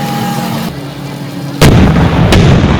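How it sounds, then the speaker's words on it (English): A radio-controlled Sherman tank fires a shell during an RC tank biathlon: one sharp, loud report bursts out suddenly after a quieter stretch, followed by a brief second crack and noisy rumble. "The Scimitar is out, England is out after a well-placed shell from the American tank."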